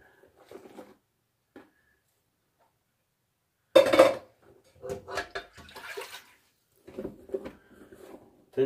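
Intermittent clatter and splashing of dishes and pots being washed, with bursts of clinking pots and running water at close range, separated by short quiet gaps.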